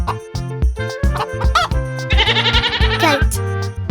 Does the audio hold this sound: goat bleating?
yes